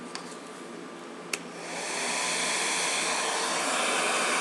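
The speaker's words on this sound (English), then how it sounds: "I'm heating it with the hair dryer on low" A hair dryer set on low heats Jamberry nail shields, a steady close whooshing hum that rises and settles into a constant blowing drone after a couple of soft clicks.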